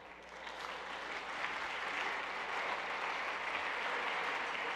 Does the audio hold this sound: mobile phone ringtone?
no